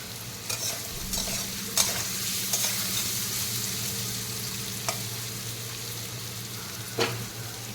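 Food frying in a pan while being stirred, a steady sizzle with occasional sharp scrapes and knocks of the spoon, close and continuous.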